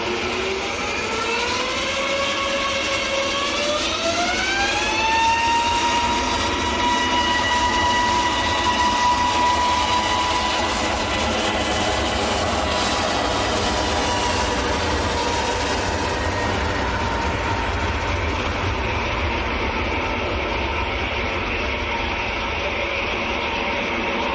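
A Titan Airways Embraer E190 jet at Manchester airport gives a sustained loud engine roar with a whine that rises in pitch and then holds steady before slowly fading, heard from a distance with no speech.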